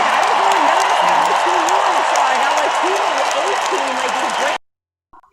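A small group claps for guests during a live online session, a steady wash of clapping under an overlapping speaking voice that stops abruptly near the end.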